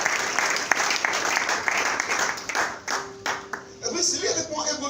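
Congregation in a church clapping and applauding for several seconds, dense and steady, with voices rising from the crowd as the clapping thins out toward the end.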